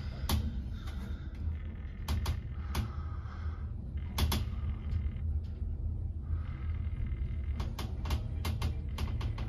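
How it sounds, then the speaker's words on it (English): Traction lifts in the Holiday Inn, Cardiff City Centre, Wales, give off a steady low mechanical rumble with scattered creaks and clicks from the car and doors, heard nearby and moderately quiet. "these are the lifts at the Holiday Inn"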